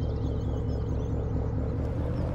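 Low, steady engine rumble from a Chevrolet Silverado dually pickup with mud-grip tires in a farming video game, idling continuously and close with no talk.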